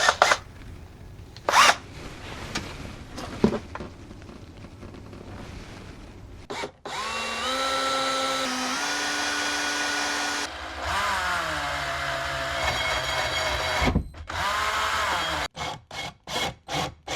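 A power drill bores through the partition panel of a kei van with a loud whirring, pitch-shifting whine in long sustained runs, preceded by scattered knocks and followed by short rapid bursts of drilling.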